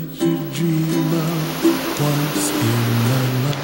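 Surf rolls onto Black Sand Beach in Dominica, a steady broad wash of breaking waves close by, with faint tonal sounds drifting over the top.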